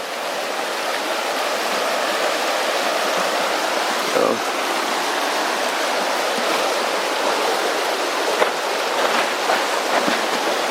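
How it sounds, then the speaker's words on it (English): A river rushes past a campsite with a loud, steady stream of broadband water noise that runs without pause for the whole span. "Shot of the river"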